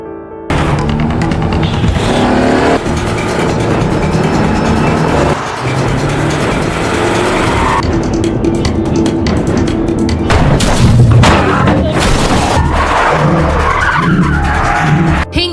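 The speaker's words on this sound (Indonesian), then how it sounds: "Kejar-kejaran dan tabrak-tabrakan pun terjadi." A film car chase, loud and continuous, with engines roaring, tires skidding and squealing, and several heavy crash impacts near the end.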